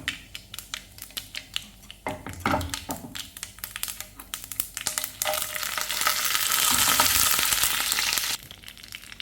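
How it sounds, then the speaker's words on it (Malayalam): Mustard seeds crackle and pop in hot oil for an onion sambar tempering, a rapid scatter of sharp crackles building into a dense, loud sizzle that cuts off abruptly near the end. "അപ്പോൾ നമുക്കത് കടുക് പൊട്ടിക്കാം"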